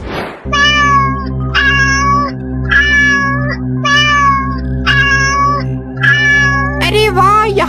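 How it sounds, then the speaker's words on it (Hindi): Cartoon kittens meowing in a run of six or seven bright, drawn-out mews, evenly spaced and loud, over a steady background tone, with a final wavering cry at the end. "अरे वाह, यहाँ पर तो इतने सारे बिल्ली के बच्चे हैं।"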